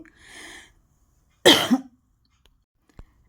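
A single harsh, close cough from a person with a cold and fever bursts out after a faint breathy sound, followed by silence and a small click.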